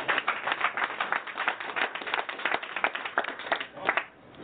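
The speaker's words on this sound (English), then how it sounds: "let's give the sister a round of applause" A crowd claps for a woman after a fiery talk, a continuous ripple of many hands that is moderately loud and fades out at the end.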